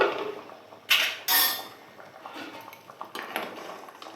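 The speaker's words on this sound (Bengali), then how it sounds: "ঢাকনাটা খুলে দেখি।" A metal lid lifts off a pot of boiling eggs with two sharp clanks close by, then some quieter knocks and rattles of cookware.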